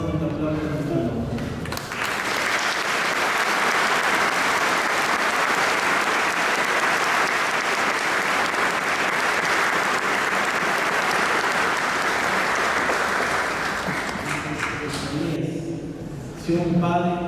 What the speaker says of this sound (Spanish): de un fuerte aplauso a nuestra nombre